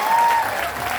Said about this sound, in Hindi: एक बार इसके लिए ताली बजा दो यार